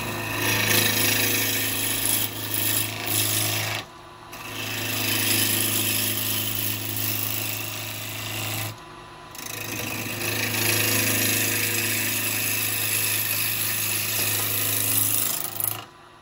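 Wood lathe rough turning a maple bowl with a carbide tool, a loud continuous grinding scrape with short pauses as the tool lifts off the spinning wood.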